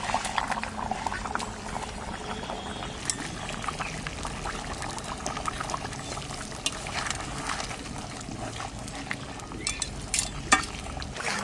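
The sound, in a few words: fish added to the pan for fish curry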